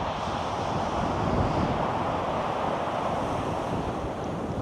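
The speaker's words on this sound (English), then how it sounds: "Got some big swells coming in." Big sea swells break and wash in as surf at Chesil Cove on a rising tide, a loud, continuous roar of waves mixed with gusty wind buffeting the microphone, with no voices.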